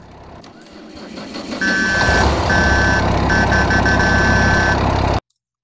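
A loud, steady tractor engine rumble in Farming Simulator 25 with a deep, high-volume, repeating two-tone horn blaring in several long bursts, then abrupt silence.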